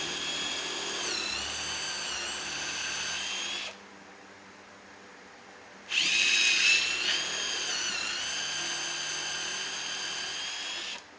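A power drill bores pocket holes into 2x4 lumber for a simple patio chair build, whining loud and close in two long runs split by a brief pause, the second burst starting harder; no talking.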